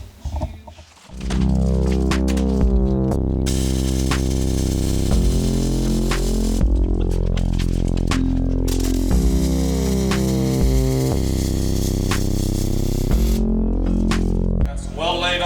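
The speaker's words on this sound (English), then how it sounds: "I'm gonna blow some weld on this thing." Arc welder laying a bead on a steel plate on a monster truck chassis during a repair, a steady loud crackling buzz that runs almost continuously with a few short breaks.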